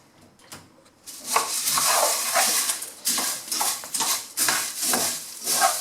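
Cornflakes are mixed into melted chocolate in a bowl, making a dense rustling, crunchy scraping that starts abruptly and continues in uneven strokes with brief pauses, close and without talk.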